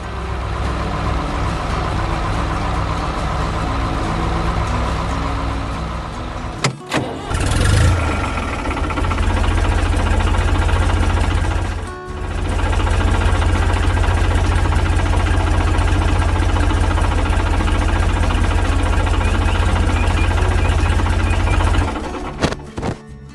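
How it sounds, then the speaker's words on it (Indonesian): A farm tractor engine runs loud and close with a steady low drone while ploughing a field, briefly dropping out twice before cutting off near the end. "tiba-tiba terdengar suara mesin yang menari-nari"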